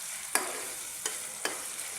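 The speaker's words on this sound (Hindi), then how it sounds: "ये मिक्सिंग करेंगे अच्छी तरह से।" A spoon stirs an onion and tomato samosa filling in a pan, giving three quick scraping strokes over a soft, steady sizzle, close and fairly quiet with no talking.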